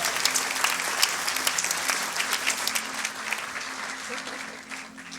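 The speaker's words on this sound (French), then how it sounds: "peut tous applaudir Raïssa, l'encourager" An audience at a church baptism service applauds a young woman named Raïssa, with sustained, moderately close clapping running throughout and a few voices mixed in.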